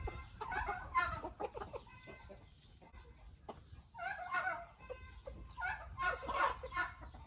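Hens cluck in a chicken coop, making soft repeated bursts of clucking at close range, fairly quiet overall, with no one speaking.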